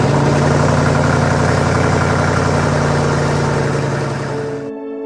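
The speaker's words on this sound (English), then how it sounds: "started the Dodge engine, and the familiar rumble filled the cab" A Dodge pickup truck engine rumbles at a steady idle, loud and close, a deep continuous drone that cuts off abruptly near the end.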